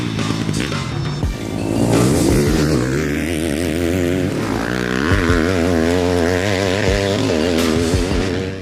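A 2020 Yamaha 250 four-stroke enduro motorcycle engine revs up and down in repeated swells, the pitch rising and falling over a steady close idle, with no talking.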